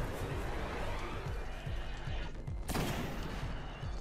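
Rapid gunfire rattles through a tough shootout in the game Destiny, with dense continuous shots and one sharper burst midway, set against steady battle noise.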